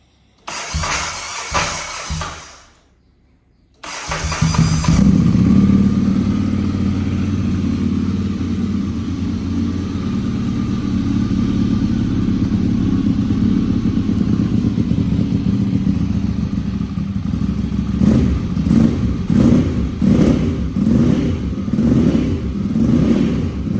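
A 2013 Ducati 795 motorcycle with a full titanium exhaust and Termignoni tip cranks, fires up and settles into a loud, steady, close idle, then gets several sharp throttle blips toward the end.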